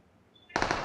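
After a brief quiet moment, a burst of rapid automatic gunfire erupts in the video game BGMI, loud and close, firing in quick repeated bursts.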